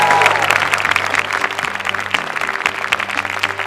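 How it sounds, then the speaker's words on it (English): A live studio audience applauds at a televised finale, a dense burst of clapping that stays steady and then thins slightly, with no speech over it. "Audience, give yourselves a round of applause."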